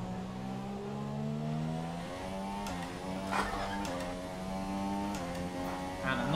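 Racing car engine in the F1 2017 video game, a steady high-pitched whine that shifts up through gears with brief dips at each change, loud and continuous with faint clicks on top and no talk.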